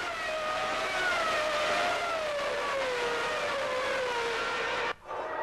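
Formula One cars roaring past on the main straight at Monza during the 1994 Italian Grand Prix, led by two red Ferraris; a steady, loud high-pitched engine wail with a slowly falling pitch as the cars go by, then a brief dip near the end.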